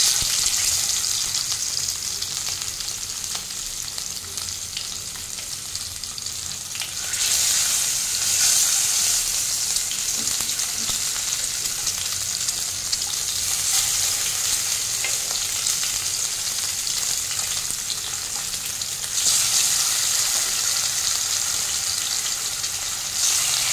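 Loud, continuous sizzling and crackling of katla fish frying crisp in hot oil, swelling louder in bursts, with no voices.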